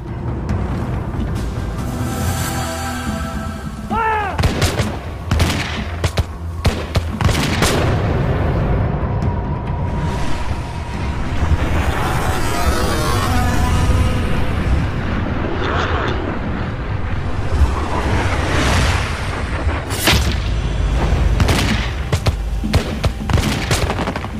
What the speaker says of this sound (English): Prince Estabrook is hit in the first volley.